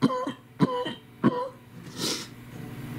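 Three short, harsh coughs at even intervals, close to the microphone, followed by a softer breathy exhale.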